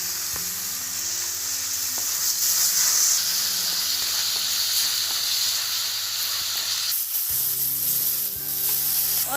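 Green chillies and curry leaves hit hot oil for a crab gravy, a steady close sizzle with hissing spatter, flaring louder again near the end as the pan is stirred.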